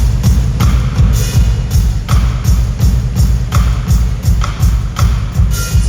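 Live drum kit playing a simple usual rhythm at a festival drum panel, steady evenly spaced thumping kick and snare hits with cymbal wash, close and loud, alone.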